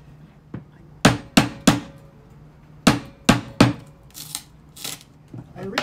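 Hammer striking a wooden crate lid to pry it open, a series of sharp, loud knocks in quick groups of three with softer scraping and handling noises between them.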